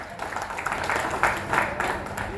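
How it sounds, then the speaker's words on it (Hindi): Audience clapping at a seated company gathering, a steady, moderately loud wash of applause that holds through the short moment with faint voices mixed in. "इनके लिए भी जोरदार ताली हो जाए"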